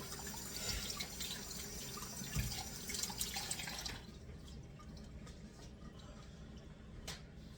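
Tap water runs steadily into a kitchen sink as hands are washed, a close, even splashing hiss that turns quieter and thinner partway through, with no talking.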